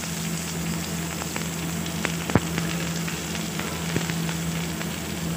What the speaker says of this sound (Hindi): प्याज को भाजेंगे गोल्डन कलर होने तक